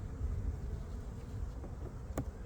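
A steady low insect drone fills the clip, like honey bees buzzing close by in a hive, with a brief faint tap near the end.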